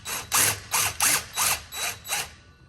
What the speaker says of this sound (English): So first what you want to do is remove the clamp, and there's one bolt there.